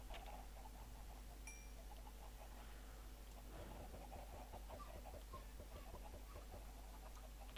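Chickens cluck in a video game. The clucks are faint, scattered and quick, and they keep a loose patter over a quiet, steady background hum with no talking.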